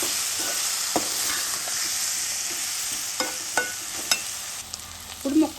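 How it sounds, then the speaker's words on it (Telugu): Raw banana pieces are stirred in a pan over a steady frying sizzle, with a few soft spatula knocks and scrapes near the end. "ఇప్పుడు బాగా కలుపుకోవాలండి"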